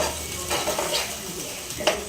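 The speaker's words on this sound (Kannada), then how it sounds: "ಒಗ್ಗರಣೆ ಹಾಕ್ತಾ ಇದ್ದೀನಿ" Spices for tempering sizzle in a pan with a steady, hissing fry, and a utensil lightly scrapes and taps now and then, close and moderately loud.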